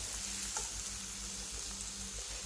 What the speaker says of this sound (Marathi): हे सगळं तळून घेऊ।